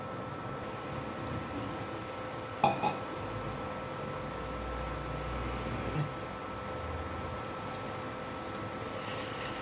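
A metal lid clanks down onto a pan of cooking pepper chicken, two sharp knocks close together, then a softer thud, over a steady low kitchen hum.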